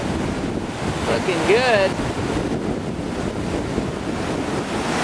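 Whitewater of Millers Folly rapid on the New River in the New River Gorge, West Virginia, at 1600 cfs, a continuous broad roar of churning water mixed with wind buffeting the microphone, with a brief remark spoken over it.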